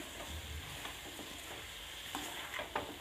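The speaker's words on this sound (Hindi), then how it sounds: "इसमें हम इसको फिर से मिक्स कर देंगे" Carrot halwa with dry fruits being stirred in a pan, a continuous soft scraping and frying sizzle with irregular spoon strokes, close and steady, no voices.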